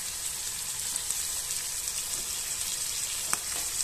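Silkworm pupae frying in a pan give a steady, close sizzle that runs unbroken throughout, with a few small pops near the end and no talk.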